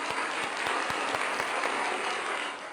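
A studio audience on a late-night talk show breaks into applause, dense continuous clapping with a few sharper individual claps standing out, easing off slightly at the close.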